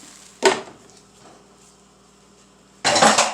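A metal pot lid clanks onto a pot of arroz con gandules cooking on the stove, with one sharp clatter early on, a quiet pause, then a second rattling clank as the lid settles.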